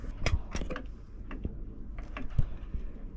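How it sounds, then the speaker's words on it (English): A bolt being tightened on the starter motor of a Yanmar 2GM20 marine engine: close, irregular metallic ticks and clicks of a ratcheting tool, with small knocks in a cramped engine space. "I've just got to get in here and tighten up that bolt."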